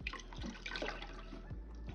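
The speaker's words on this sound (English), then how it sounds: "I'm dripping all over the place." Water dripping and trickling from wet yarn squeezed by hand, a quiet, continuous wet patter with a few soft drops standing out.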